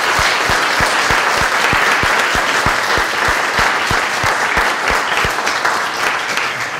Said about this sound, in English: can we give one big round of applause to everyone who has stepped up to run?